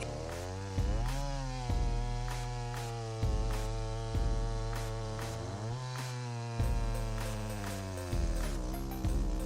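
Chainsaw cutting through dense wood, the motor droning at a high steady pitch and dipping in strained bursts roughly every second or two as the chain bites, loud and close with no talk.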